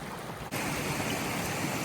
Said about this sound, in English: Creek crossing number 2